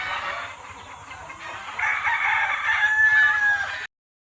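A game fowl rooster crows once at a game farm, a loud, close, drawn-out call that rises and holds before cutting off, with no one talking over it.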